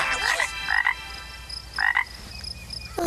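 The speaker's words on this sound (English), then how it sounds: "I was croaking as loud as I could" Cartoon frog croaks in a few loud, raspy bursts with short pauses between them, close and clear over a quiet forest background, with no talking.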